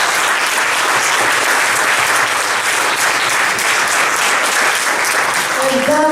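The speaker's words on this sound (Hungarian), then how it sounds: "And we give Laszlo a big hand." Sustained audience applause for Laszlo at a motivational business gathering, dense steady clapping from a large crowd throughout, loud and continuous, with a brief tonal sound near the end.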